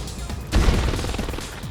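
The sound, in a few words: gunfire in video game C&C Mental Omega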